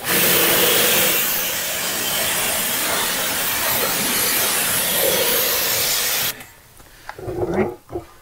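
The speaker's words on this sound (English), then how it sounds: "I can rinse it down and then we'll probably get the tires one more time" Water spray rinses a car wheel and tire after an application of wheel and tire cleaner: a loud, close, steady hiss that holds for about six seconds, then cuts off and leaves faint scattered dripping and handling noises.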